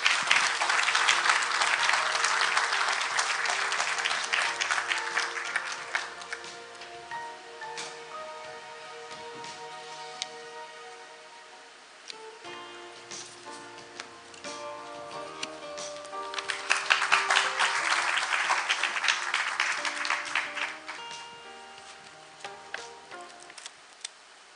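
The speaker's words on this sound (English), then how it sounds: "Please welcome him with a big round of applause." A ceremony audience at a closing session of the SIGNIS World Congress 2022 in Seoul bursts into applause, a dense clapping swell that fades, then rises again in a second loud wave before tapering off.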